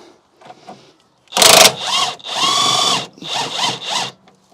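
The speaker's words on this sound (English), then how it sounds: "I'll see if we can crack it loose with an impact wrench first" Impact wrench breaking loose a sway bar drop link nut on a BMW E65/E66 7 Series, with a loud hammering burst followed by several shorter whirring runs, close up and without talk.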